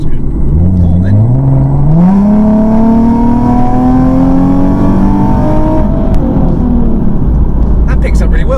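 A Nissan 370Z accelerates hard from inside the cabin, its engine note climbing steadily in pitch through the revs and then easing off, loud and continuous, with passengers talking over it.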